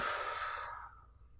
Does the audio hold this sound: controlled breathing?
yes